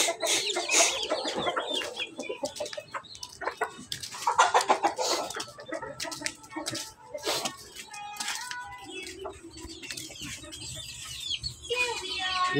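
Chickens and roosters of a breeding flock cluck steadily at close range, with overlapping calls and a few sharper squawks across the whole stretch.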